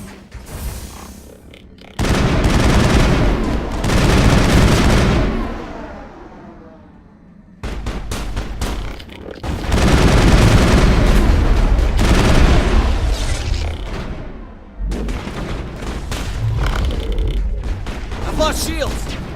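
Automated turrets firing in the Mass Effect video game, loud sustained bursts of gunfire and booming impacts in several long waves with short pauses between them, with voices speaking over the action.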